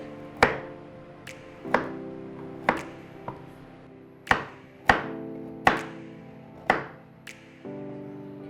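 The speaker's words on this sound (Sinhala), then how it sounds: "එහෙම නැත്නම් මම ඇන්ගල් එකකට කපනවා මේ වගේ." A knife slices vegetables at an angle on a cutting board for a chicken noodle soup, with about a dozen sharp, separate chops at an uneven, unhurried pace and nothing else heard.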